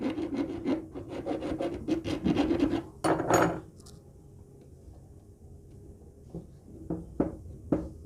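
A sewing machine needle-bar link being rubbed down by hand during a repair, steady close rasping strokes for about three seconds, then a couple of sharper scrapes, followed by a quieter stretch with a few short light rubs.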